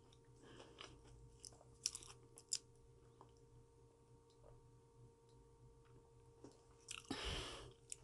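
Someone chews large pieces of potato close up, with soft irregular crunching and biting clicks spread over a quiet background and a louder burst near the end.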